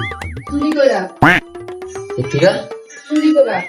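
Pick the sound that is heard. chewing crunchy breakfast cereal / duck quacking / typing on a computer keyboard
duck quacking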